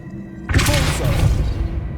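Silence breaks into a sudden thumping boom as the Repulso spell is cast in Hogwarts Legacy, followed by a sustained rumbling whoosh that slowly fades, with a voice alongside.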